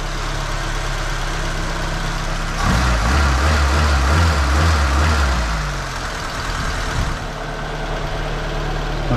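A carbureted Fiat Abarth engine idles after a long period of storage, with a valve clearance needing adjustment. The idle is a steady, close drone that swells briefly partway through, then settles back.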